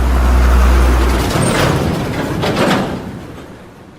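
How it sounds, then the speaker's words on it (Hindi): A heavy truck rumbles close by with a deep, loud roar and a brief airy hiss. The sound fades gradually as it moves off, with no voices. "हाँ, ट्रक।"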